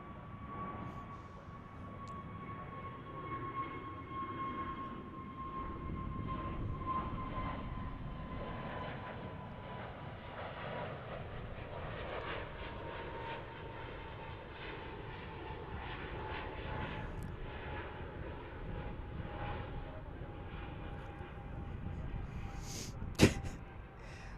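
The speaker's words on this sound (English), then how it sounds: "Frontier Airlines into the sky on their A320." A Frontier Airlines Airbus A320 departs DFW airport, its engines a loud, sustained roar with a steady whining tone gradually shifting in pitch as it climbs away, ending with a brief sharp click.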